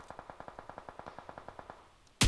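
Automatic gunfire in the video game PUBG Mobile: a steady rapid burst of about fifteen evenly spaced shots at moderate distance, followed by a sudden loud blast at the very end.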